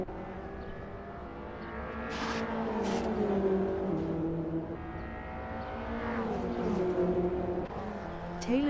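Touring cars, a BMW among them, racing at a Namibian circuit, with engines droning and rising in pitch as they accelerate through gears, one passing loudly near the middle, a steady layered roar throughout.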